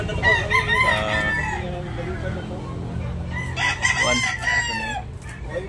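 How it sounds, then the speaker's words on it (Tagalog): Roosters crow repeatedly at a gamefowl sale in Tabunok, with several drawn-out calls and clucks from nearby birds over a steady crowd murmur and background chatter. "May manok ni Jampol na rin."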